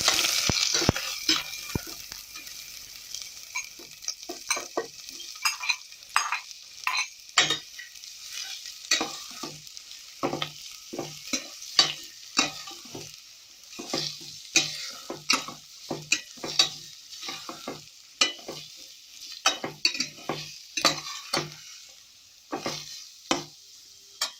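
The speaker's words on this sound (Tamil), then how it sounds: "எண்ணெய் சூடானதுக்கப்புறம் நறுக்கி வச்ச வெங்காயத்தை அதில் சேர்த்து வதக்குங்க." Continuous sizzling of chopped onions frying in hot oil, punctuated by frequent rhythmic scraping and stirring strokes throughout.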